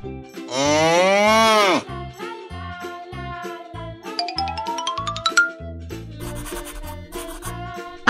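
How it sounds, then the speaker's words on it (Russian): A cow lets out one loud, drawn-out moo near the start, followed by light, bouncy cartoon music with chimes and a rising whistle-like sweep. "Корова."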